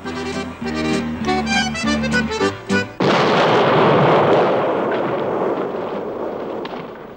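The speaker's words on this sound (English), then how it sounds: "Willie blows the ship up" A cartoon ship packed with gunpowder blows up in a sudden loud blast that follows a short burst of music, then a long, crackling roar that slowly fades, with no talking.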